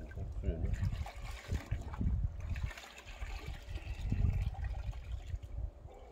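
Water being poured and splashed onto the inside of a tandoor oven, an uneven trickling and splattering with short gurgling bursts, fairly close and moderately quiet.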